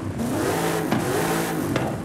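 A 7.2 liter racing V8 fitted to a Ford Bronco in Forza Horizon 5 revs hard, a loud, steady, throaty roar that rises and falls through two quick throttle blips.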